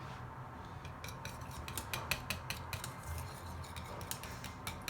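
A utensil stirs chocolate cake batter in a bowl just after cornstarch goes in. Quiet, rhythmic scraping and clinking sounds close by, steady throughout, with no talking.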